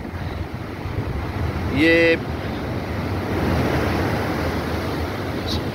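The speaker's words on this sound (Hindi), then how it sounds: "कितनी फुट ऊंची लहरें जो हैं वो आ रही हैं।" High sea waves, 8 to 10 feet tall, crash on the Karachi shore in strong wind as a steady roar of surf and wind noise. A short tonal blip cuts in briefly and a voice speaks once.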